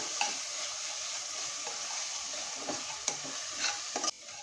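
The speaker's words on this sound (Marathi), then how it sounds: "मसाला आपण छान परतून घ्यायचा आहे मसाला चांगला आपण मिनिटभर परतून घ्यायचा" Spice masala stir-fried in a pan for a bottle gourd and chana dal dish gives a steady, fairly quiet sizzle with a few light scrapes of stirring near the end.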